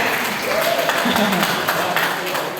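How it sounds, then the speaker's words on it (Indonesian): Applause fills a church parish meeting for the church speakers, a steady wash of clapping with voices talking over it throughout. "Boleh tepuk tangan dulu untuk para pujangga gereja."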